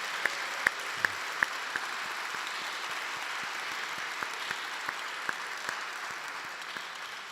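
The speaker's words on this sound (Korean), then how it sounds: "우리 다시 한번 뜨거운 박수 부탁드립니다." Congregation at a large church revival gathering in Korea applauds steadily, a dense wash of clapping with a few sharper claps standing out, fairly distant and even throughout, no talking.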